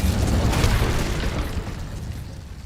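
Fire spell blast in the video game Hogwarts Legacy: a loud, rumbling whoosh that swells quickly and then fades over a couple of seconds.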